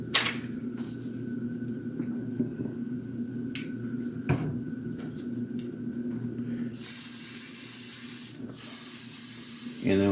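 A spray can hisses steadily while laying a coat of paint on the cuffs of a 1/3-scale Juggernaut model. The hiss is quieter at first with a few light clicks, then becomes a louder, continuous close spray for the last few seconds.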